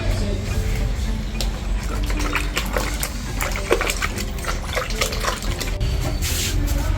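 Yams being washed in water in a home kitchen in Ghana, a steady splashing and running-water wash with intermittent clinks and rubbing, continuous and close, with no talk.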